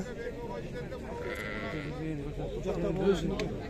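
Rams bleating at a livestock bazaar, a few moderate calls mixed into a busy crowd murmur, with people talking over them.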